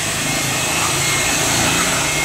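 A loud, steady whoosh of a vacuum sucking leftover water from a car's corners at a carwash runs without a break, close and constant, with no voices.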